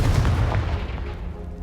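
The Confringo explosive spell blasts a pile of debris in Hogwarts Legacy as a brief, loud, booming burst with a rough, crumbling texture that tapers off quickly.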